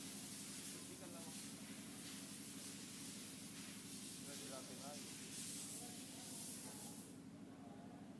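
Spray hissing while cleaning a hardened, sandy CBR250RR piston block, a continuous close hiss with short bursts, under ongoing conversation.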